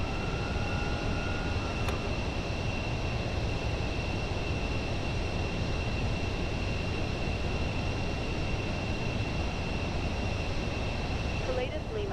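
Pilatus PC-24 business jet engines in a flight simulator game, heard just after takeoff as a steady, loud broadband roar with a sustained high whine, continuous and unchanging throughout with no talk.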